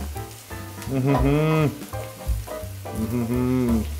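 Onions sizzle and fry in a pan for a chicken stew, a close, steady crackle beneath a melodic, voice-like sound that rises and falls.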